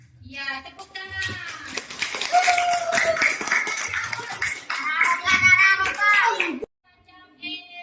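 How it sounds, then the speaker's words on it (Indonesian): Classroom applause as schoolchildren clap their hands together, a dense burst of clapping mixed with children's voices that stops abruptly near the end. "Ya, tepuk tangan."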